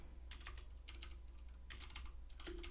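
Typing code on a computer keyboard, several quick bursts of close, crisp key clicks separated by short pauses.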